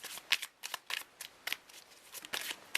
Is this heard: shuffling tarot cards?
yes